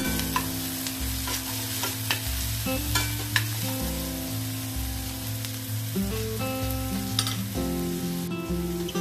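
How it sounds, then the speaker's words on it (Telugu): Onions and green chillies sizzle in hot oil with mustard and cumin seeds, and a spoon stirs and scrapes the pan now and then. The frying hiss is steady and close, with no talking over it. "ఆనియన్స్, పచ్చిమిర్చి, ఆనియన్స్ వేగనిద్దాం."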